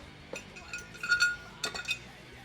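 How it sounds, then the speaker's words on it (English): The air cleaner comes off the 302 engine in a Comet with a few light metallic clinks and rattles, quiet and close, in short bursts with small gaps between them. "Hold on, I'm going to take the air cleaner off."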